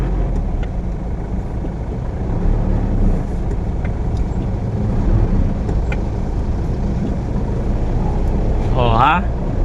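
Slow, heavy southbound traffic on the SLEX expressway: a steady, close rumble of idling and creeping cars, trucks and buses, with a short rising tonal sound near the end.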